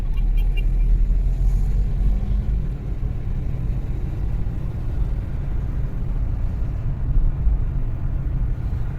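Steady, loud car engine rumble as a vehicle drives along a road during a driving licence test, holding an even low drone throughout with no voices.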